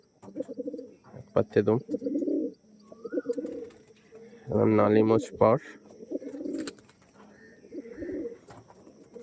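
Andhra, Arshad and Kalanka breed pigeons give repeated throaty coos in short rhythmic bursts, close and fairly loud, with someone speaking in between.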